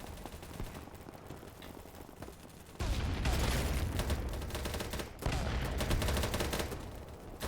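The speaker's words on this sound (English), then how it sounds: "Where are they shooting from?" Gunfire in the video game BattleBit Remastered: quieter scattered shots at first, then heavy sustained bursts of automatic fire from about three seconds on, loud and continuous with a brief gap.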